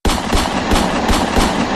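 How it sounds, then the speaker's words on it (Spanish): A rapid series of gunshots, about half a dozen evenly spaced sharp bursts in quick rhythmic succession, loud and close with a continuous rumbling backdrop and no talk. "El sonido era obviamente un disparo y luego sonaron 5 veces más."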